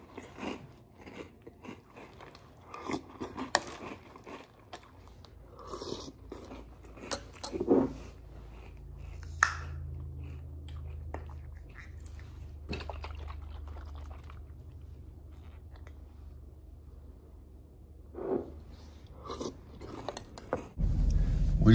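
Cap'n Crunch cereal being chewed close up: irregular crisp crunches and bites, fairly quiet, with a low hum under some stretches and no clear talk.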